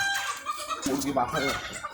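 Chickens on a poultry farm, heard from upstairs during sorting, make a restless clamour of clucks and squawks, with a person talking close by over the noise.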